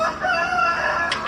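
Several roosters crowing in a backyard flock, a steady loud cock-a-doodle-doo calling close by with overlapping voices, no talk.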